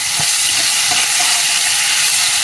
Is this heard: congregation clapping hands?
no